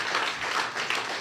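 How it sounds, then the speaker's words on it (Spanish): Church congregation applauding after a prayer at a discipleship class, steady dense clapping throughout with no voices on top. "Dale un aplauso, Señor"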